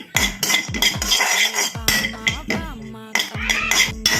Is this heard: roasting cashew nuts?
yes